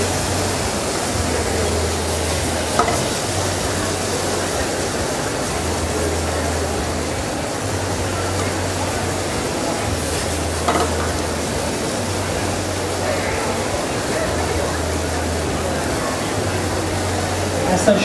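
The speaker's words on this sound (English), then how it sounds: "add the marinade and then just cook it again" Marinated beef for bibimbap sizzles steadily while being stir-fried on a food truck griddle at an outdoor expo, a continuous hiss with a low hum and crowd murmur underneath.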